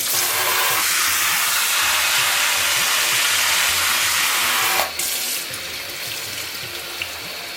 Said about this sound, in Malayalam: ഇതിനെ നമുക്ക് നന്നായിട്ടൊന്ന് റിൻസും കൂടി ചെയ്യണം.